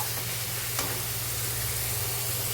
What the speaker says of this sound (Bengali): লবণটা দিয়ে দিলাম দিয়ে ভালো করে টমেটো সফট হওয়া পর্যন্ত কষিয়ে নেবো